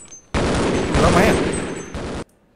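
Sustained broadband gunfire from Half-Life, loud and continuous for nearly two seconds, with a dense burst in the middle that eases slightly before stopping abruptly.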